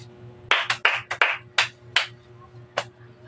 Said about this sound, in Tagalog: bibigyan natin ng 5 palakpak ang ating mga sarili